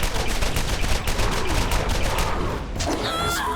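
Fire pistol gunshots in the video game Borderlands, fired in a rapid, dense burst of shots that is loud and near and keeps going without pause, with enemy skags in the fight.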